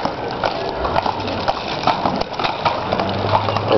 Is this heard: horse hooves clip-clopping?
yes